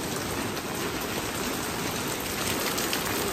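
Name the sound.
rain shower in Taiwan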